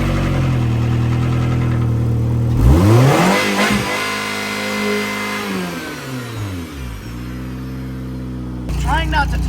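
A cheap, worn Nissan car engine cranks and fires up after a battery is placed under the hood, then revs up and settles back to an idle, loud and close, with speech partly over it.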